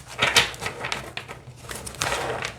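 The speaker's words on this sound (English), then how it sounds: "let's see how this deck shuffles" Rapid crisp riffling and flicking of cards, a dense papery patter in short bursts with a brief pause, close to the listener.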